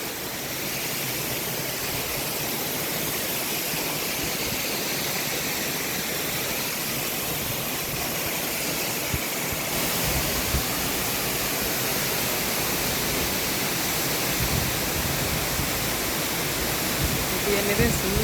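Nalagana waterfall in Bulathkohupitiya roars as a loud, steady broadband rush of falling water, close and continuous throughout.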